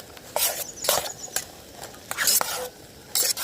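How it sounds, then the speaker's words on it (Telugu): Homemade fried rice with tomato, onion and green chillies stirred in a pan, bursts of metal spatula scraping and clinking over a low sizzle, close and irregular, with no voices. "పచ్చిమిరపకాయలు అన్నీ వేసుకొని బాగా కలుపుదాం."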